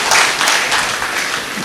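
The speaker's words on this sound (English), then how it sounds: "Please give them big round of applause." Dense audience applause at a district installation ceremony, a steady wash of many hands clapping loudly and evenly throughout, with no voices standing out.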